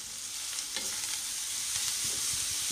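Onion and carrots frying together in a pan, a steady close sizzle with occasional stirring scrapes and clatter, no talking.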